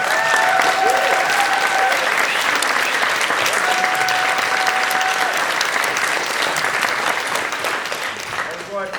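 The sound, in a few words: audience applause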